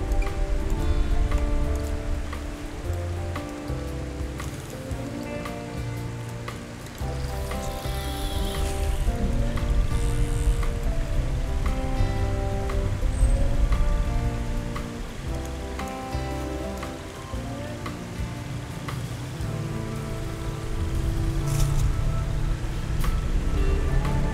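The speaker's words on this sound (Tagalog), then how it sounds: "Naku, umuulan na." Steady rain patters on a surface throughout, a continuous close wash of drops without any talking.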